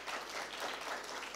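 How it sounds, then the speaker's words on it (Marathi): An audience at a Samrat Ashok birth-anniversary event in Saoner taluka claps loudly, a dense, continuous patter of many hands with no voices over it. "आपण सर्वांनी जोरदार टाळ्या वाजवल्या पाहिजे"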